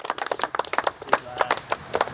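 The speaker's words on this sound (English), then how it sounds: "Give him a little clap." A small group clapping for a trophy winner at a carp fishing social event, with irregular, close hand claps over about two seconds and a little chatter in the background.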